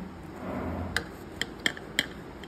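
A knife meeting a hot, freshly baked homemade cake, giving a few sharp clicks and taps against a plate or pan, four distinct strikes spaced irregularly after a soft rustle, close and fairly clear with no talk.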